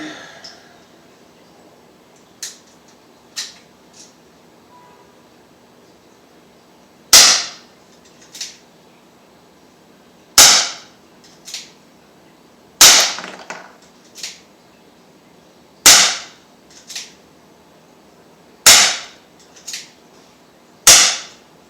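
A Crosman SR.357 .177 air pistol fires six shots, each a sharp, loud crack with a short ringing tail, spaced a few seconds apart, with faint clicks of cocking and handling between them.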